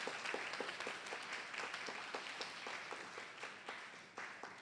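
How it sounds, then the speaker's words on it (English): Audience applause for Professor Hussain at a Krishna Mandir Sunday morning service, a steady patter of many hands clapping at moderate distance for several seconds, fairly quiet and without talk over it. "Please give Professor a round of applause."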